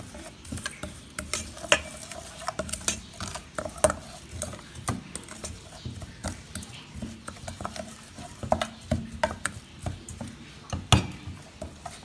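Stirring ingredients for a spicy Thai shrimp salad with fresh lime in a bowl, giving repeated light clinks and scraping taps in an irregular rhythm, close and moderately quiet, with no talking.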